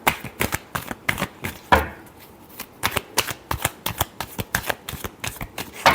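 Tarot cards being shuffled by hand in a rapid irregular series of crisp riffling slaps and flicks, close and fairly quiet, with a brief pause partway through and no talking.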